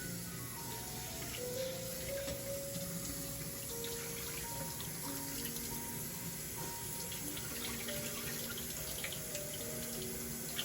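A kitchen tap runs steadily while hot water is awaited during Thanksgiving cooking, a constant faint hiss and splash of water into a sink with no talk.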